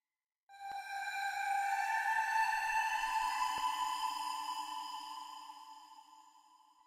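A sustained synth note run through the MVocoder vocoder plugin rings out as one bright, buzzy, harmonic-rich tone that holds steady for several seconds, then slowly fades.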